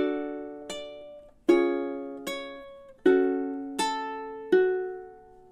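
A ukulele plays measures 9 and 10 of a song, six plucked strums or chords ringing in a steady Halloween rhythm, clear and close with no voice.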